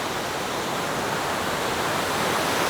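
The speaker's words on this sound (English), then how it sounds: "I think we're coming up on the falls. I can hear it off in the distance." Wild Creek Falls in Beltzville State Park roars as a steady, dense wash of rushing water, loud and continuous throughout with no voices over it.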